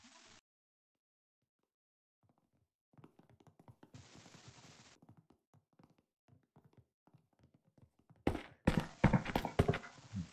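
An AK rifle fires in the video game Deathly Stillness in a loud, rapid burst near the end, after quieter scuffling footstep-like sounds in a rural village setting.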